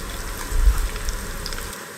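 Raw banana chips deep-fry in hot oil, giving a steady close sizzle with soft crackles and a brief louder stir-like rumble midway before the bubbling thins out.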